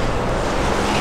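Strong gusting wind roars steadily and loudly at close range while someone walks outdoors in Portland, holding an umbrella down against the blast; no voice is heard.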